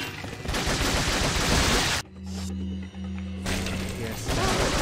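Bursts of TMP submachine gun fire in Resident Evil 4, loud and dense, with rapid crackling shots crowding the first two seconds and returning toward the end around a steadier humming stretch.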